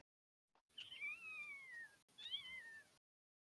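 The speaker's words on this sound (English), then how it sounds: "he's making squeaky noises. I hear a chest. I'm sorry, that sounds like a cat." A kitten meows twice in squeaky, rising-and-falling cries, close and clear against near silence.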